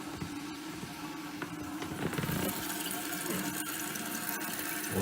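Water runs steadily into a toilet tank as the supply is turned back on after fixing a leak, a continuous rushing fill that stays fairly even throughout.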